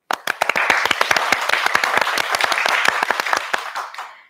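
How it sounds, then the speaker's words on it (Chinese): An audience claps at a Hong Kong Red Cross volunteer recognition ceremony. The applause is brisk and fairly loud, with dense overlapping hand claps that stay steady and then fade out near the end. "在这里我们先给一些掌声每一位义工"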